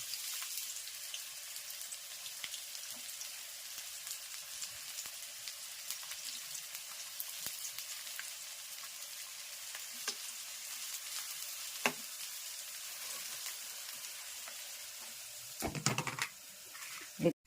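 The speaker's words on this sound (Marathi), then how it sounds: "किंचितचं तेल जास्त घालायचं जेणेकरून कांदा छान फ्राय होईल" Low, steady sizzling of onions frying in oil, fairly quiet, with scattered crackles and a brief clatter near the end.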